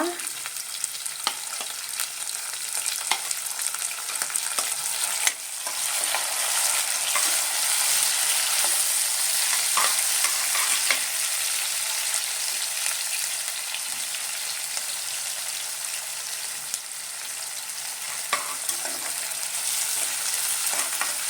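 Finely chopped medium-size onion fries in a pan with a steady, fairly loud sizzle, broken by occasional stirring scrapes and clicks throughout, with no voices.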